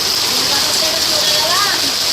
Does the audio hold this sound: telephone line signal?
no